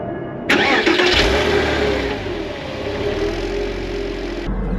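A Porsche Boxster engine cranks and fires up with a sudden loud catch, then settles into a steady, close idle rumble that holds until the end.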